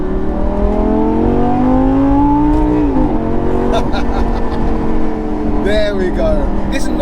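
A 2000s performance car pulls hard in second gear, its engine note climbing steadily for about three seconds before a brief dip, then rising again under a continuous loud drone, with voices briefly audible near the end.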